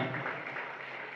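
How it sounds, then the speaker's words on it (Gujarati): An audience at a school Navratri festival event claps in a brief, steady burst of applause, dense and even with no clear voices over it. "જોરદાર તાળીઓ પાડો."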